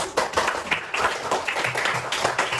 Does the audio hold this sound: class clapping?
yes